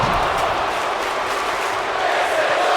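Crowd cheering in the WWE 2K19 video game, a dense sustained roar of arena noise with no breaks.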